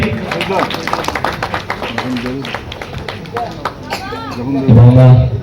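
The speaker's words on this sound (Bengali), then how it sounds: "তোমরা যদি একটু জোরে হাততালি দাও" Audience clapping at a fashion icon modelling show in Murshidabad, with scattered claps and crowd chatter under an announcer's steady talk, swelling louder near the end.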